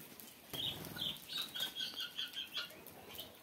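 Japanese quails on a poultry farm flap their wings in rapid repeated bursts, close and moderately loud, with soft chirping mixed in.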